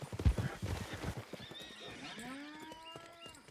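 Horse hooves clip-clop at a gallop in Red Dead Redemption 2, followed by a long whinnying neigh, close and clear, with light game sounds behind.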